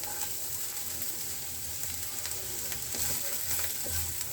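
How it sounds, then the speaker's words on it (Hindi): Finely chopped capsicum and cabbage sautéing in a pan, heard as a faint, steady sizzle and crackle with small stirring scrapes. No voices are heard. "थोड़ी देर में हमें सौटे कर लेना है"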